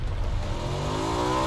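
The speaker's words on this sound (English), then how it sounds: "so we're driving now, we're riding a motorcycle" A motorcycle engine revs in a battle royale video game, its pitch climbing steadily as it accelerates, loud and continuous with no voices.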